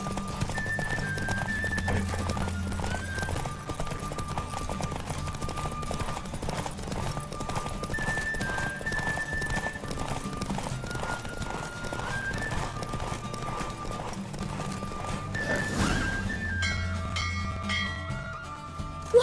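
A horse gallops steadily through a race in The Witcher 3, hooves clattering in a constant rhythm beneath a melodic game score, with a whinny or sharp burst near the end.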